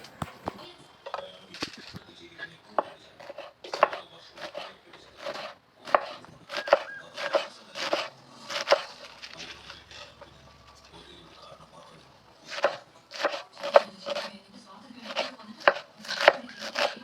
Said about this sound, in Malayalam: നമ്മൾ കഴുകി വെച്ചിരിക്കുന്ന ഇലകൾ നമുക്ക് ചെറുതായിട്ടൊന്ന് അരിഞ്ഞെടുക്കാം.